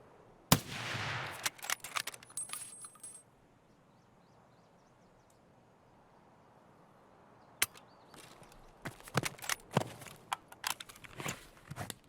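A T5000 sniper rifle in Escape From Tarkov fires .308 rounds: sharp, loud cracks come in scattered bursts with a quiet stretch between them, followed by a cluster of rapid impacts and clatter near the end.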